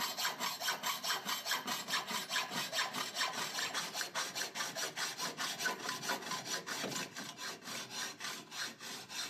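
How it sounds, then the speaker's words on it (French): A hacksaw rasps rapidly back and forth through a metal corner profile, a steady rhythm of quick, close strokes that slows slightly near the end. "Sciez votre profil à l'aide d'une scie à métaux."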